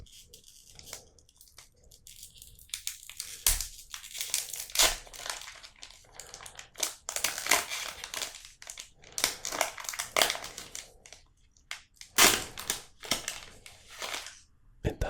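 Pokémon card pack foil is torn open by hand, without scissors, close up: repeated crinkling, crackling rips and crumples in irregular bursts, with no talking.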